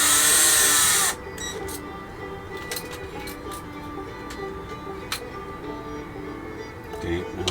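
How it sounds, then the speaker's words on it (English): A power drill whirs briefly, then screws are driven into the plastic parts of a Tamiya GF-01 Heavy Dump Truck R/C model, with soft clicks and light clinks of small parts close by and a voice talking. "You're kind of creating threads in the plastic with the screws by doing it like this"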